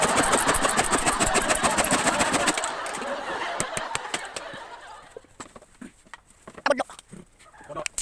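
A motorcycle engine runs steadily at close range for a few seconds, then cuts off, leaving scattered clicks and sharp knocks with faint chicken sounds nearby in a rural yard.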